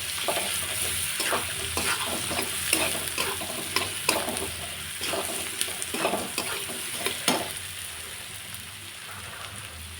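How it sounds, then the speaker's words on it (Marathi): Garlic and coconut paste sizzles and crackles in hot oil in a pan for a potato and pea curry, with a spoon scraping and stirring at intervals through the steady frying hiss. "आता मी टाकणार ही लसूण खोबरं."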